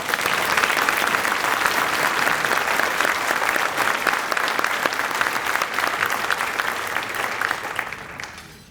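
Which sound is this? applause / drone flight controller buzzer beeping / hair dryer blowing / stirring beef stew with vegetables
applause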